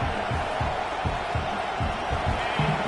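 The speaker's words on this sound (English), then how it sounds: "listen to this crowd noise. This stadium is vibrating" A packed stadium crowd at a football game roars in a dense, continuous wash of noise, loud and sustained with no break.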